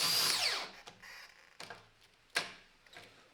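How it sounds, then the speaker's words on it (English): A cordless drill driver whines up loudly at the start as the bit bites into a piece of wood, then falls away into a few sharp knocks and scrapes spaced out over the following seconds. "we didn't get very far in there with the drill driver"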